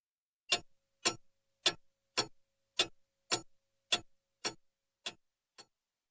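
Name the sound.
clock ticking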